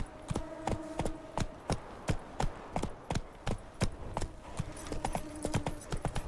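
Roach, Geralt's horse in The Witcher, gallops along in a steady, rhythmic drumming of hooves on hard ground, each beat crisp and fairly close, with a brief neigh and no speech.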